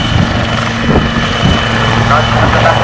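Black Cat helicopter display team flying at the 2025 Cosford Airshow, a steady rotor thrum and engine drone holding throughout, loud and continuous with commentary voices over it.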